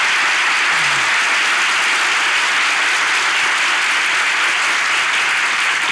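A studio audience at the Turkish talk show İlişki Testi with Mesut Süre gives sustained, dense applause that stays loud and even throughout, with no voices on top.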